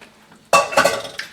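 Two cans of tomatoes tip into a pan for osso buco with pancetta: a sudden wet splashing slide followed by clinking and stirring, close and fairly loud, with no talking.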